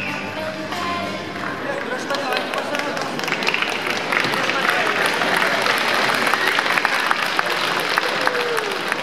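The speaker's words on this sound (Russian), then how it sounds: "Под ваши аплодисменты, Вадим Максимов!" A crowd at a mixed martial arts event applauds a fighter's introduction, with dense, continuous clapping and cheering that builds slightly over the clip while voices carry through the noise.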